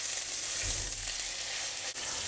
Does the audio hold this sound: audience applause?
no